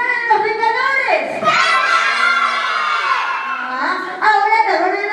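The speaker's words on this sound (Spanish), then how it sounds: "Ahora, chicos, un grito bien fuerte, ¿ok?" At a first-birthday party, a crowd of children shouts and cheers loudly together, sustained rising yells with a short dip in the middle and a fresh burst near the end, close and lively.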